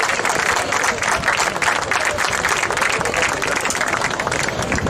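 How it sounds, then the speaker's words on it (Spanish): A crowd claps for trophy winners at a handball prize ceremony, a dense, lively burst of applause with some crowd voices mixed in, holding steady and fairly loud throughout. "Un fuerte aplauso para ellas."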